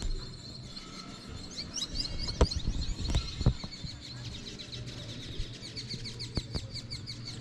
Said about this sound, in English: There were so many birds in the park square, all playing and making noises in the trees.